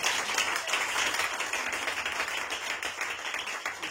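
Applause from a church seminar congregation, a dense steady wash of many hands clapping that holds at moderate level throughout, with no voices standing out.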